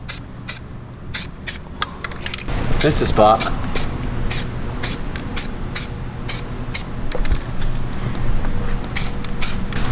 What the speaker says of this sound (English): And this stuff you can just spray on like super light.